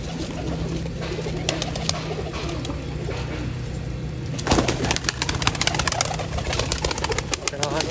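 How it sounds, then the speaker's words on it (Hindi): Pigeons gathered on a rooftop to eat grain coo repeatedly and close by, with a burst of wing flapping and busier activity partway through. "दोस्तों छत के ऊपर आ गए जी कबूतर, और दाना खाना स्टार्ट हो गया"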